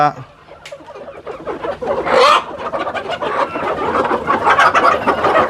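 Country (nati) chickens in their coop at a Ramanagara roadside eatery cluck and squawk close by in scattered bursts, partly mixed with a voice.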